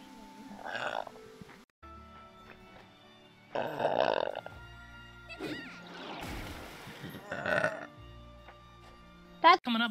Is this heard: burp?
yes